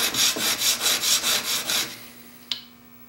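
A woodworking chisel is pushed back and forth across an extra coarse sharpening stone in about eight even, rasping strokes. The scraping stops, and a single sharp tap follows.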